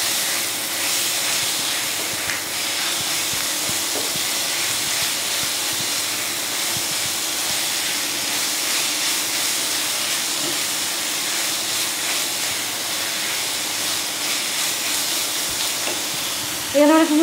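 Chicken sizzles and hisses steadily in a hot pan while being mixed for a patty filling, a continuous close frying noise with a louder clatter of stirring right at the end.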